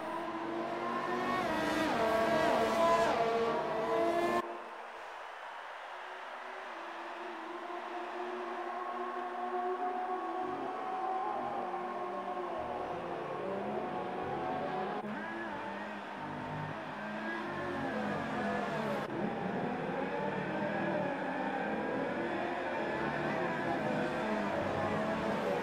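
Formula 1 cars racing in F1 2018: a continuous rising and falling engine whine at moderate distance, shifting pitch as cars pass, with a voice talking over it.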